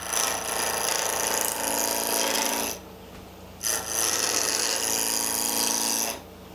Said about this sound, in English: I'm going to grab my roughing gouge and we're going to rough this out